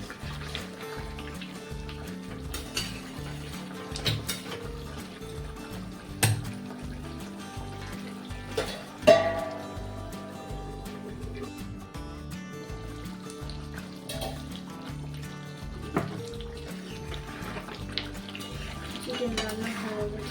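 Hot water stirred into a pot of chicken curry with potatoes, soft scraping and sloshing of a spoon against the pot under low steady kitchen noise, with occasional clinks.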